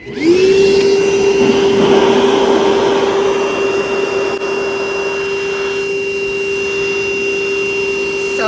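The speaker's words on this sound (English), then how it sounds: "So of course it works as a regular shop vac." A wet/dry shop vacuum spins up quickly and runs loudly and steadily, a high motor whine over rushing airflow that holds without pause.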